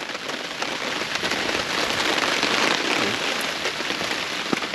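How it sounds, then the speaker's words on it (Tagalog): Steady rain falling and pattering on a hard surface at a motorcycle campsite, a continuous broadband hiss with occasional sharper drops, no voices. "Hindi ko akalaing uulan dito."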